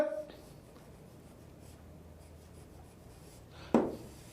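Marker squeaking and scratching across a board while a circuit diagram is drawn, a steady faint scratch through most of the clip, ending in one louder sharp stroke.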